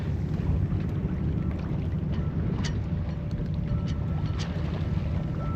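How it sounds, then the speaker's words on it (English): Wind rushes over a sailboat out on the water at about 4.5 knots on a beam reach, a steady close roar with occasional faint creaks and clicks from the boat. "The wind just picked up a little bit again."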